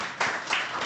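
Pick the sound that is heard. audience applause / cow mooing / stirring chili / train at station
audience applause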